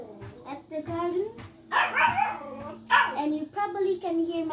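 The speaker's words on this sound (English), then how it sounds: "you probably can hear my dog" A dog barks and yips in a garden, short sharp barks and a few whimpering yelps mixed with a person talking over it, fairly close and moderately loud.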